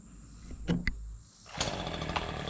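A chainsaw cuts into a wooden porch post during a cabin porch build, starting with a few sharp knocks before the engine rises into a steady, fairly faint buzzing drone.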